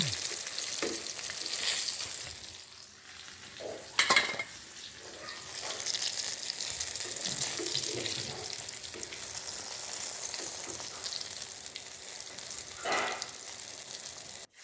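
Eggplant slices frying in oil give a close, continuous sizzle and crackle, with a sharp utensil clatter near the start and occasional bursts of spattering as the pieces cook, and no one speaks.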